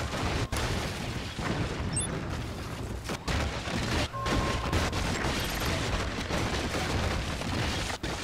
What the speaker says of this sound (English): Oh, that artillery shell! Oh, the artillery. Two artillery cannons?